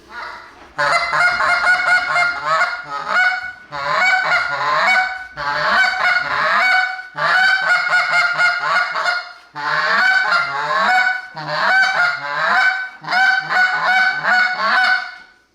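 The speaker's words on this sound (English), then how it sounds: "We'll see what the goose call sounds like here." A goose call is blown in repeated bursts of loud honking, each series of honks separated by short pauses, close and clear.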